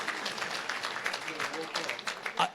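Audience applause for a donor at a charity fundraiser: brisk, fairly distant crowd clapping that rises and falls, with voices talking over it.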